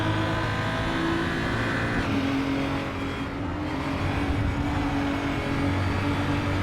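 A BMW race car in the sim game Raceroom at Portimao, with a continuous engine drone shifting pitch through gears and corners and faint tyre noise, with no voice over it.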